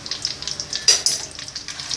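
Crackling, spitting sizzle of banana slices frying in hot oil, steady and close, with a couple of louder pops around the middle.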